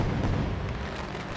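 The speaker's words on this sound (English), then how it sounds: "As the fireworks come out" Fireworks crackle and boom continuously at the race finish at Daytona in a sportscar racing game, a dense, loud rumble with no pauses.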